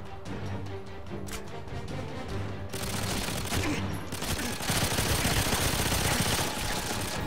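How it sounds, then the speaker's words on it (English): Sustained automatic gunfire from GoldenEye 007 Reloaded on the Station level: dense, loud rattling bursts that run almost without pause and swell louder in the second half. "for some reason I'm shooting him and it doesn't work"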